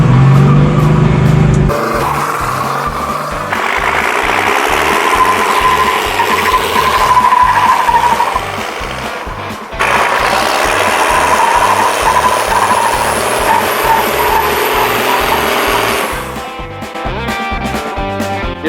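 A Cummins diesel-swapped Chevrolet C10 truck being powerbraked, its engine roaring loud and close in sustained revving bursts with a brief drop between them, the sound steady and unbroken by talk.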